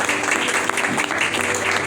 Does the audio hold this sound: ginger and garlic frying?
no